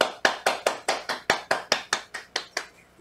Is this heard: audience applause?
yes